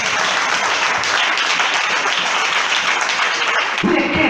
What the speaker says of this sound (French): Applaudissez le Seigneur matin.